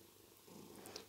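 A cat purrs right up against the microphone, a faint but steady rumbling purr with soft rustles as it rubs the mic, no talking over it.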